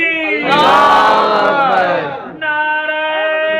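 Large crowd at a Sunni religious gathering in Pakistan roars a loud unified chanted response to slogans, a sustained massed shout followed by a sharper drawn-out call.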